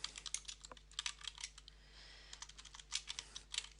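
Typing on a computer keyboard while composing an email, a quick, irregular run of clicking keystrokes close by, with a short pause midway and no voices.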